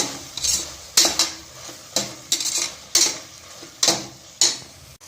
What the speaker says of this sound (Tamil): இதுல மஞ்சள் தூள் ஆட் பண்ணிக்கலாம். ஒரு வாட்டி கலந்துட்டு